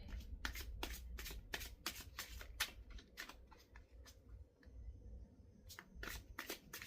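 A deck of shamanic oracle cards is shuffled in quick riffling bursts, with short pauses between them. The shuffling is close and soft against a quiet room.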